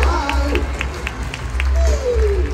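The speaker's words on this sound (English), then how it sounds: "Big clap to them, everybody." An audience of families claps at a children's Wiggles stage show in an arena, a steady wash of hands with scattered cheers and children's voices, while a voice calls out over a microphone.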